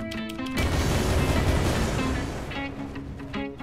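A burst of booming explosions from the Ark Primal Fear game mod swells into a dense, roaring blast that fades after a few seconds, with tonal game sounds before and after it.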